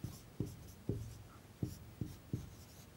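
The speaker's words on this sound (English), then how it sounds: "We write" Marker or chalk writing on a board during a chemistry lesson: six short, sharp taps and strokes at an uneven pace, close and fairly quiet, with no talk over them.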